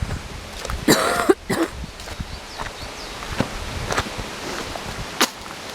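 A person outdoors on a downhill walk coughs once sharply and close, then scattered footsteps and light rustling follow at a quieter level.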